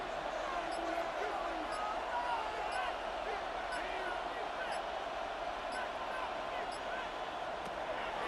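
Steady roar of a stadium crowd during a Seattle Seahawks vs Washington Commanders game in Madden NFL 26, building on third down, continuous and fairly loud with faint bursts on top.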